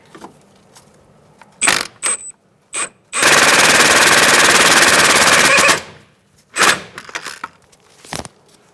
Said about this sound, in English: Now we're going to snug up our sway bar link.